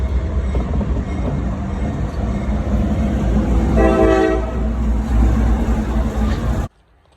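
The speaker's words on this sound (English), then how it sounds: "there's still railroad tracks here, and the train still comes through sometimes," A freight train rolls through the Thurmond, West Virginia ghost town with a loud, continuous rumble. A horn sounds partway through, and the noise cuts off abruptly near the end.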